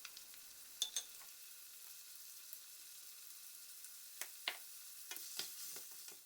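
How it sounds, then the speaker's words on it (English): Onion, ginger and garlic sauté in oil in a pan over medium heat, a soft steady sizzle with occasional small pops and stirring clicks, quiet and close, no talk. "Add the onion, ginger, and garlic. Lightly season with salt and pepper. Saute over medium heat for 3 to 4 minutes."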